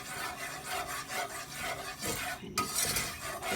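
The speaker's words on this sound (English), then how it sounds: "I'm using this whisk. Sometimes I'll use a spoon, but it's better with the whisk." A whisk scrapes and rubs rhythmically through a dry roux in a pan, with quick, close, raspy strokes repeating steadily and no talking.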